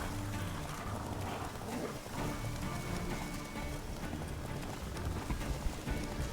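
Hooves of Roach, the horse in The Witcher, galloping in a rapid steady clip-clop rhythm over a dense, noisy game soundscape that sounds like rain, lasting throughout.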